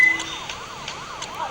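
A wailing police car siren from the GTA 5 video game, sweeping up and down in a steady repeating cycle at moderate loudness, with no talking.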